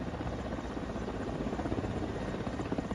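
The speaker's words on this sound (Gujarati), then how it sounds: "એરફોર્સના હેલિકોપ્ટર દ્વારા આ રેસ્ક્યુ ઓપરેશન હાથ ધરવામાં આવ્યું છે" An Air Force rescue helicopter works over a riverbank at Desar near Vadodara, its rotor throbbing in a steady, fairly distant drone with no voices over it.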